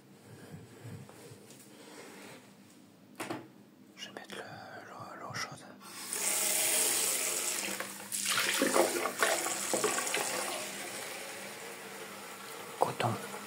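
Water running into an empty washing machine as it starts a cotton cycle at 40 degrees, a broad steady rush that swells after a few seconds and holds, with faint handling noises and a quiet voice earlier.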